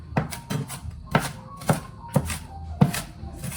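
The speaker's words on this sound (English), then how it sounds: "So chop up the onion just a little bit here." A knife chops an onion on a cutting board in a home kitchen, about seven crisp, evenly spaced thunks, close and fairly quiet.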